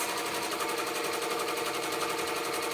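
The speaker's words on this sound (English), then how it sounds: "And I keep sewing." A sewing machine stitches fabric in a fast, steady, continuous whir with an even mechanical chatter, running close and alone without pauses.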